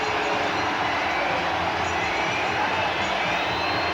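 A large cricket crowd at a 1997 India vs West Indies match in Trinidad roars and cheers continuously after a boundary, a dense wash of noise that holds steady throughout without any break.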